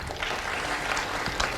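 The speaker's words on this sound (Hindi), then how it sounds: "तालियां बजाइए।" Audience applause at a kids' summer camp event: steady, dense clapping from a crowd, moderately distant and fairly quiet, holding evenly throughout.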